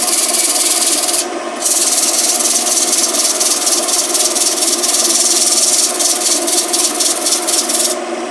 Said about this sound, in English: Fresh side of sandpaper always helps a little bit.